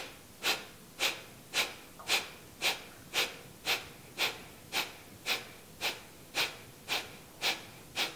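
Rapid, forceful nasal exhalations of Kapalabhati yoga breathing, about sixteen sharp evenly spaced puffs roughly two per second, close and clear with no talk.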